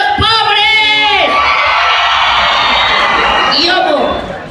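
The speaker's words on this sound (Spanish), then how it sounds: "¡Aplauso y grito de los pobres!" A loud crowd at the 2015 Tecomatlán fair cheers and shouts together, with whoops and clapping-like noise swelling for a few seconds before trailing off.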